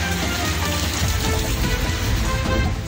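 Heavy typhoon rain and strong wind in Kasiguran, Aurora, a dense, steady roar of downpour with gusting noise filling the whole stretch, loud and close with no break.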